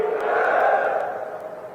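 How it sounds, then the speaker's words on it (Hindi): At a political rally welcoming India's Home Minister in Mahendragarh, a large crowd roars a single sustained chant of Bharat Mata ki Jai that echoes through the open space and fades out at the end. "एक जोरदार जयकारे के साथ"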